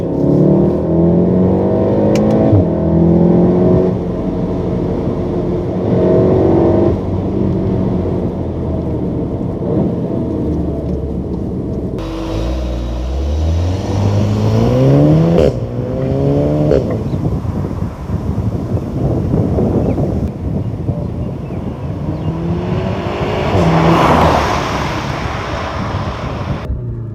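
A Volkswagen Golf R MK7 engine revs repeatedly but is capped at 4,000 rpm, each loud rise climbing and then falling back in several successive swells, heard close over steady wind-like noise without talk.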